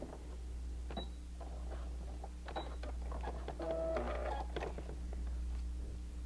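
A sewing machine sets small stitches across a paper-pieced Christmas elf mug rug in short whirring bursts, with a brief faster run near the middle, over a steady low electrical hum.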